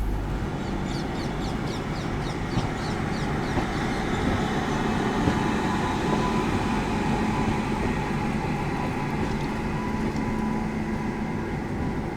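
Chennai Express passenger train running on its route after leaving Lonavala, a steady broadband rumble of wheels and carriages heard from onboard, continuous and fairly loud throughout with no talk.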